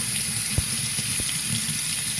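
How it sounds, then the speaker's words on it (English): Water flows through a DeLonghi coffee machine water filter during priming, a steady loud gushing rush like a running tap, with a couple of brief low knocks and no talking. "the water goes in through the hole at the bottom and it's coming out these little"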